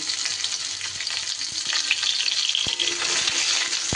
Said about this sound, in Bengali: গাঁটি কচুটাও কয়েক সেকেন্ড নাড়াচাড়া করে নিই